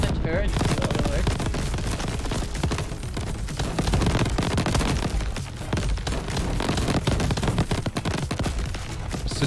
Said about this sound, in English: Let the turret go to work.